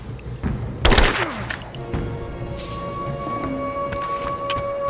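Gunfire erupts in the Shadow of the Tomb Raider video game: a dense burst of shots about a second in, then steady combat rumble and scattered impacts trailing on under a constant tonal background.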